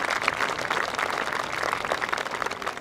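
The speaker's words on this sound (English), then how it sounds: "so a round of applause for him." A crowd applauds a Member of Parliament at a U16 field hockey national championship, a steady, moderately distant wash of clapping that holds for a few seconds without any talking.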